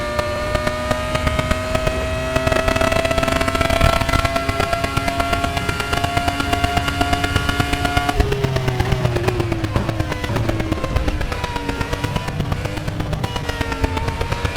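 A Formula car engine in the RaceRoom racing game screams at high revs with a harsh, buzzing tone, holding a steady pitch, then dropping through gear changes and climbing again, loud and close throughout.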